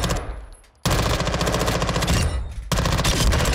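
An SMG firing in a Warzone 2 firing range: two long bursts of rapid automatic fire, loud and close, separated by a brief pause as the sound drops away between them.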